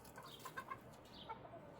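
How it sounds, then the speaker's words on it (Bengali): Chickens kept inside a large enclosed house abroad give a few soft, short clucks. The sounds are faint and scattered over quiet room ambience, with no talking. "দেখেন মুরগিও আছে"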